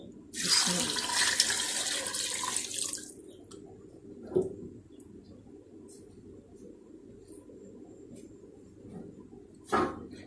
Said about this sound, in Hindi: हाफ जग मैं पानी का डाल रही हूँ।